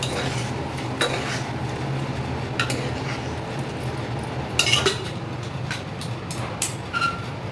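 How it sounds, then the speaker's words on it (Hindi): Washed utensils are put away in a kitchen, with scattered clinks and clatters of metal dishes over a low background hum. "जो धुले हुए बर्तन थे ना, उनको मैं अपनी जगह पे रख दूँगी"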